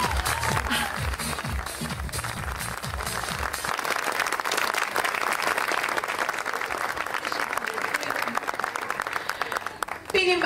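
Studio audience applauds throughout, a steady dense clapping under background music, welcoming Ajda Müjde onto a stage in a Turkish TV comedy scene.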